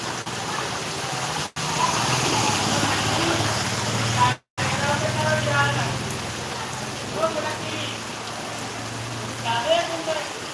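Steady rain falls in the village of Balanwali, Punjab, as a battery-powered scooter rolls by through the wet. The downpour is a constant wash, briefly cut out twice, with faint voices murmuring in the background.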